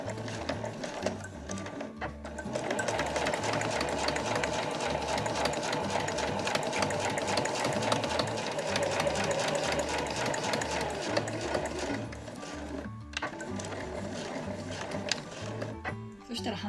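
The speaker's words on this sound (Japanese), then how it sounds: "そしたら両サイドを1センチ縫います。 そしたら返し縫いからスタートします。" A domestic sewing machine stitches the 1 cm side seams of a fabric granny bag, starting with a backstitch, running steadily with a mechanical whirr and rattle, pausing briefly twice.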